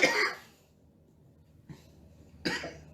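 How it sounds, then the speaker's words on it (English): Three separate coughs from a person: one strong cough at the start, then a short soft one, then another firm cough, with quiet pauses between them. "That's why I'm coughing"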